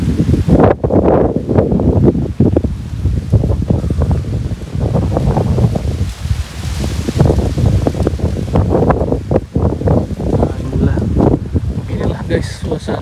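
Strong wind buffets the microphone on a hillside campus of IPDN in North Sulawesi, roaring in loud, uneven gusts throughout, while a person talks over it.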